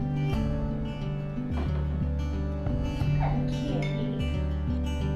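A house dog whimpers and lets out short yips and barks close by, the whines rising and falling over a steady background.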